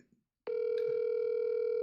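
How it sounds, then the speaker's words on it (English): A phone line tone sounds as a call is placed to add someone, a steady single-pitched electronic tone starting abruptly after a short pause and holding evenly. "Hey, real quick, do you care if I add Jaden to the call?"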